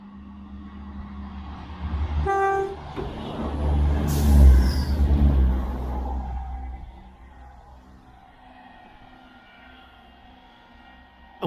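A passing train, not a steam engine, gives a brief horn toot, then a heavy rumble swells and slowly fades into quiet.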